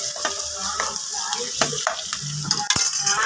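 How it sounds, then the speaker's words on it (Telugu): Ginger paste is stirred into chicken liver curry in a pan, with bubbling frying hiss under repeated scraping and knocking of a spoon against the pan, close and continuous. "మంచిగా ఇలా కలిపేసుకుందాం."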